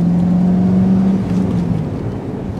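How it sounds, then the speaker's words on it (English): A 1999 Chevrolet Corvette C5 convertible with an LS1 V8 drives along, its steady engine drone loud and close, with a low tone holding then sliding slightly as the car rolls on. "Matt just drove out of a really busy intersection in this Corvette convertible"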